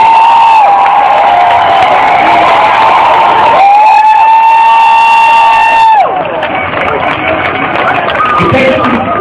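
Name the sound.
protest crowd applauding and cheering at Montreal City Hall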